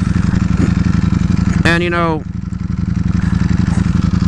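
Ducati Panigale V4S motorcycle engine rumbling loudly and steadily at close range throughout, with a brief voice speaking over it partway through.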